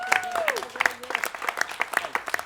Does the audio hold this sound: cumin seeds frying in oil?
no